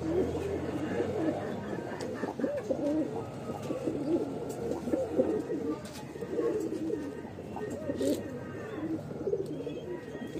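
Lalsare pigeons coo steadily in a loft in Bhopal, several soft throaty calls overlapping in a close, continuous murmur with faint wing flutters and background voices.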